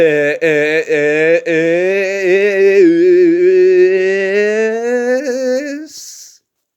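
A single voice draws out a long, wavering, warbling drone for several seconds, mimicking garbled slowed-down film sound from a faulty cinema projector before cutting off.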